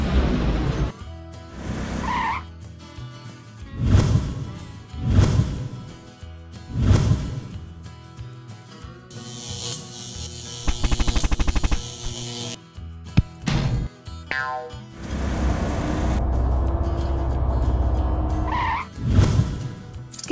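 A cartoon truck drives with repeated tire squeals and skids, loud bursts recurring every couple of seconds over engine noise, with a longer rushing passage midway and a sustained engine drone near the end.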